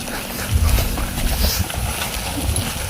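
Hooves of a water buffalo (carabao) being trained to haul water over rocky ground thud and clop in an uneven walking rhythm, close by, with some background noise.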